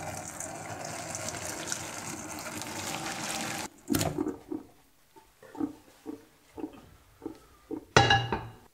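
Water gushes steadily as cooked salt cod is drained, a loud continuous pour that stops after a few seconds, followed by a string of short splashes and knocks, then a final brief gush.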